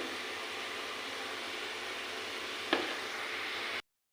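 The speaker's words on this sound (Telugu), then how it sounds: "ఈ నూనెలో ఉల్లిపాయ పేస్ట్ వేసుకుందామండి" Onion paste fries in hot oil with a soft, steady sizzle at low volume, one brief sharp crackle near the end before the sound cuts off abruptly.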